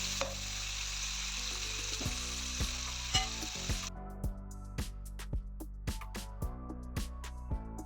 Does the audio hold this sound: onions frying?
yes